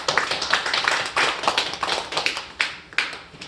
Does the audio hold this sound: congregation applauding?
yes